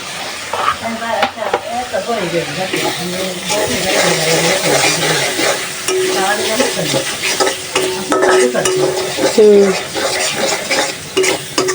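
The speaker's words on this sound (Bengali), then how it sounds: "চিংড়ি মাছটা ভালোভাবে কষায় নিলাম লাউগুলো দিয়ে" Prawns and bottle gourd sautéing in a pan with steady crackling sizzle, a spatula scraping and stirring throughout, metal utensils clinking against the pot, and a voice murmuring softly in the background.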